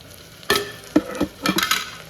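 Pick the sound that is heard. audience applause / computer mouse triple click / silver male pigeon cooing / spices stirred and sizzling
spices stirred and sizzling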